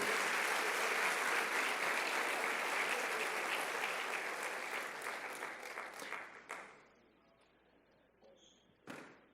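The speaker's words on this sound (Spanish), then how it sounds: "denle un aplauso al Señor bien" A church congregation applauds loudly and steadily for several seconds, then the clapping thins and fades out, leaving a few scattered claps and a sharp knock near the end.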